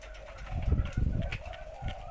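A deep, soft spotted dove coo repeats a few times in a low, hollow three-note rhythm, fairly close and moderately quiet.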